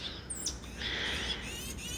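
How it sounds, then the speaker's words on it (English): Bird chirps come through faintly and sporadically: a few thin high calls over a steady outdoor background hiss, with no talking. "And the bird is saying hello to you"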